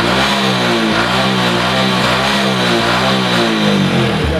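A Hero Passion Pro motorcycle with a heavily smoking engine in need of boring revs loudly and steadily up close, its rough, throbbing note holding without a break throughout.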